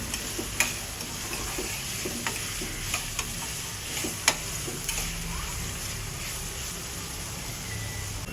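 Vegetables sautéing in a pan for moong dal khichadi give off a steady low sizzle, broken by scattered sharp clicks of a spatula stirring against the pan.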